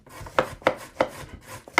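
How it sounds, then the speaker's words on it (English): Carrots chopped with a knife on a board in a remote mountain home kitchen, five crisp, evenly spaced chops landing close and clear with light scraping between them. "I chop the carrots."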